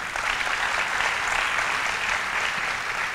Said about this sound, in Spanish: Démele un fuerte aplauso ahí al Señor.